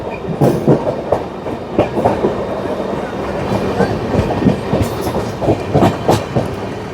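A train runs through Govindpuri station without stopping, its wheels beating a steady clickety-clack over the rail joints with rattling carriages, heard from on board.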